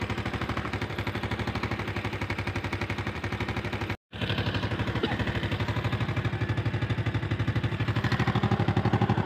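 A motorbike engine idles with a steady, rapid thumping putter that runs nearly unbroken, cutting out for a brief instant midway before resuming at the same close, even rhythm.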